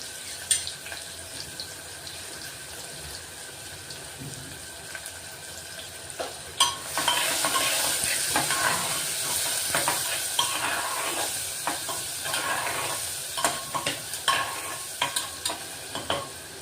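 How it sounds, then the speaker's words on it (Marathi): A large chopped onion frying in a pan for a bottle gourd and chana dal dish, a soft start giving way to a steady sizzle with repeated stirring scrapes and clicks. "कांदा चांगला लाल करून घेऊ।"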